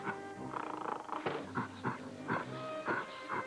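A dog whimpers and growls in a Zoo Tycoon computer game commercial, a few short strained cries repeating over a bed of music, with no talking.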